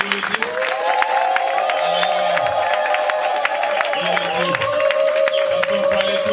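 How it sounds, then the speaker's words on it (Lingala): A church congregation cheers and acclaims loudly, with a dense crowd roar of shouts and sustained voiced cries and scattered claps throughout. "Acclamons le Seigneur Jésus."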